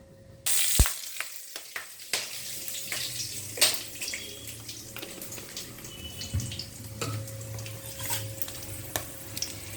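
Whole spices, cinnamon, cardamom, cloves, bay leaf and dried red chilli, temper in hot oil for prawn malai curry: a sudden sizzling burst, then a steady crackle with scattered clicks and a faint steady tone behind.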